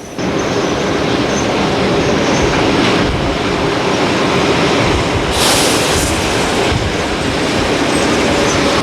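A train rumbles past loudly and close, wheels clattering steadily on the rails with a brief rise in hiss midway.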